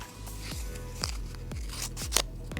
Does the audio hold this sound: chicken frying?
no